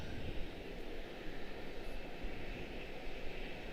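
Faint, distant engine rumble from an Airbus A321neo bound for Las Vegas at Charlotte Douglas airport, a steady low wash of noise holding level throughout.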